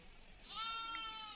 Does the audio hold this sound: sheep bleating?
yes